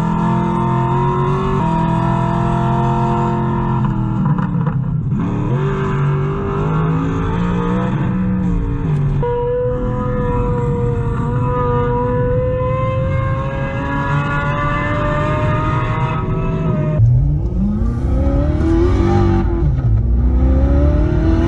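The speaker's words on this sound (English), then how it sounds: "it will play supercar engine sounds out of your speakers as you drive, so it feels like you're driving a Lamborghini" Synthetic supercar engine sounds, Lamborghini Aventador style, play loudly through a car's speakers while driving, with steady revving that rises and falls and a sharp shift near the end, and no talk.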